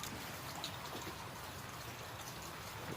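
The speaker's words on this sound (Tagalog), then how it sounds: "O yan, talagang umuulan mga kaibigan." Rain falling steadily on a dark, overcast day outdoors, a continuous dense patter of drops with no pauses, fairly faint and even throughout, no voices.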